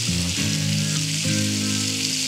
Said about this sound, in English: Oh yeah, it's good sizzle. It's good sizzle.